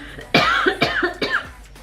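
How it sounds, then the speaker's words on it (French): Three harsh coughs in quick succession, close and loud, from a single person. "Attendez, je vais tousser."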